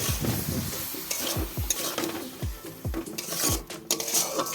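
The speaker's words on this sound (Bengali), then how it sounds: "এখানে আমি দিয়ে দেবো টমেটো কুচি তারপর সব কিছু আবারও একবার মিক্স করে নিচ্ছি" Chopped tomatoes stirred into a frying egg curry masala, with a steady sizzle under repeated swooshing spatula strokes and scrapes against the pot, close up with a few metal clinks and no voices.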